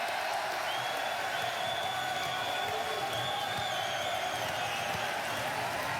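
Crowd cheering and applauding at a hardbat table tennis event as player Wayne Overtone walks onto the stage, a steady wash of clapping and voices with a few whoops rising over it throughout.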